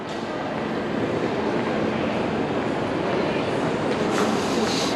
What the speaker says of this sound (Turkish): hemen burada hızlı bu trenler hızlı trenler var